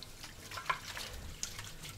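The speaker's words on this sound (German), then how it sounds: "Wischt auch einmal hier mit der Hand ein bisschen durch oder mit fließend Wasser." Running tap water rinses a baking dish in a kitchen sink, a soft continuous splashing flow with a few brighter drips and clinks, fairly quiet and close.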